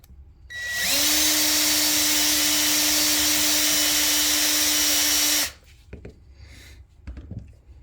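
A Frankfort Arsenal universal case trimmer cuts brass cartridge cases as a loud, steady motorized whine for about four and a half seconds. It stops abruptly and is followed by faint clicks and handling sounds.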